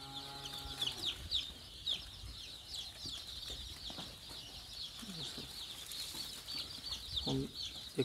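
Chicks cheep during a Ranikhet vaccination of local poultry, a busy stream of high, faint peeps with occasional clucks and low rustling handling noise.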